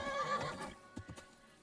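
A horse neighs loudly up close in Kingdom Come: Deliverance II, a long whinny that fades out, followed by a few soft hoof clops on a forest path.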